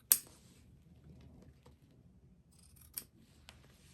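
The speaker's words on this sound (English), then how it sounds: "So we're gonna cut the straps" Scissors cut through straps on a DIY garden gnome, giving a sharp close snip at the start followed by quieter rustling and two more faint clicks.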